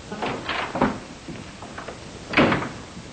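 A door opens as someone walks in, during a vintage radio comedy scene; a few knocks and thuds spread over the first second, then a stronger clunk near the end, in a quiet room.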